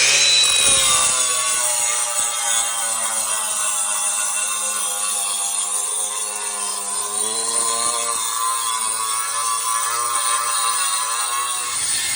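A diamond tile-cutting bit on a power tool whines loudly and continuously, a high grinding buzz that holds steady throughout, cutting porcelain tile in a bathroom renovation.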